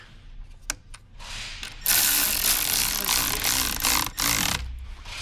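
A ratchet tightens the terminal clamp on the 12 volt battery of a 2026 Hyundai Tucson. Close, steady mechanical clicking and grinding runs loudly through most of the stretch, with no talking.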